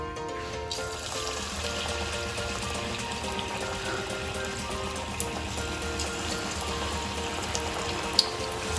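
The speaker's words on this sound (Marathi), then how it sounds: "इथं आता आपलं तेल तापलेलं आहे तर आता आपण याच्यामध्ये भजी सोडून घेऊयात" Spring onion bhaji fritters, spooned in small pieces into hot oil, fry with a steady, dense sizzle and crackle that carries on throughout. A couple of sharp pops stand out, and no one speaks.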